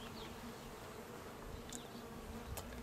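Honeybees swarm around an open beehive during an inspection in a bee yard, a dense continuous buzzing hum with individual bees zipping close past, quiet and steady with no voices.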